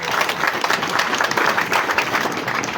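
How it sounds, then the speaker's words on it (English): Audience clapping at a political rally speech by Bobi Wine, a dense steady wash of many hands filling the space, continuous and fairly loud with no voices standing out. "And as you clap your hands"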